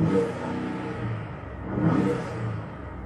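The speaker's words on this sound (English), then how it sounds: "The Roush exhaust sounds nice too." Roush aftermarket exhaust on a 2018 Ford F-150 Raptor pickup, revving in two rising surges of deep engine rumble, moderately loud with no talking.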